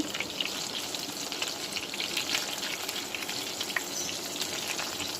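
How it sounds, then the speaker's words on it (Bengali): Beef doughnut kebabs fry steadily in hot oil, a dense continuous crackle and sizzle with small popping bursts throughout, close and moderately loud with no voices. "আস্তে আস্তে গোল্ডেন করে ভেজে নেব"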